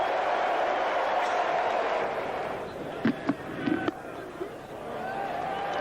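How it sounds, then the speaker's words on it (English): Stadium crowd at a one-day international cricket match between New Zealand and Australia in Wellington, a broad steady roar of cheering that swells and then eases, with a few sharp claps and thuds on top. "The crowd's delighted."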